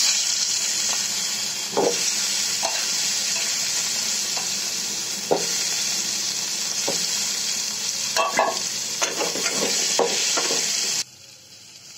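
Potatoes frying in hot oil in a pan with fenugreek seeds: a loud, continuous hiss of oil runs throughout, with occasional stirring knocks and scrapes, ending abruptly as the sizzle cuts off.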